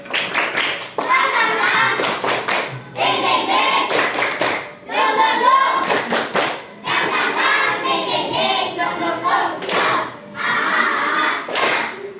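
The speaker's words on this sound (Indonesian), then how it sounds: "Nah, tepuk semangat." A classroom group performs the Indonesian "tepuk semangat" spirit clapping chant during an ice-breaking session, with bursts of rhythmic clapping alternating with chanted voices over about twelve seconds, loud and energetic.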